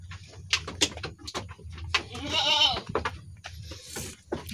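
A goat eats melon rind, with wet crunching and smacking chews in irregular bursts up close, joined by a brief bleat midway.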